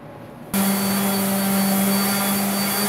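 A blade sharpening machine at a sawmill starts up abruptly and then runs with a loud, steady whine and whir, holding a constant pitch with no talking.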